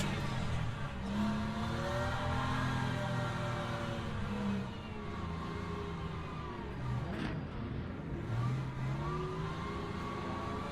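Race cars in Le Mans Ultimate, a hypercar alongside, drone with continuous engine tones that rise and fall through gear changes, several cars overlapping at a steady level with no talk.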